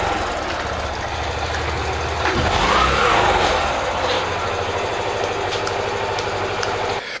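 A Yamaha YBR 125 motorcycle engine that has just been revived runs close by with a steady, loud idle and rapid knocking pulses, swelling briefly into a higher rev before settling back.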